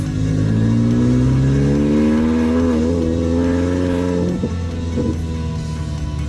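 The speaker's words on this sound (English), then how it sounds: "What is it about me test driving things and the exhaust dropping off?" A Mini R53 engine revs loud and close with its exhaust dropped off, producing a raw, booming drone that climbs in pitch, then drops and settles with a couple of brief blips.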